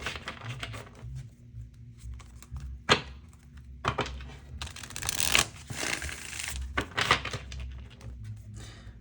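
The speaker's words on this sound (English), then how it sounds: "while I shuffle the deck." A tarot card deck is shuffled close by, with irregular bursts of riffling and soft papery slaps and thumps coming in clusters, fairly quiet overall and without talk.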